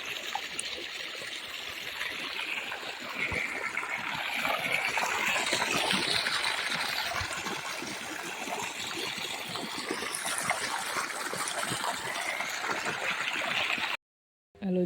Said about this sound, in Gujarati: મસ્ત જો પાણી જાય છે, આપણે હાથ ધોઈ નાખીએ।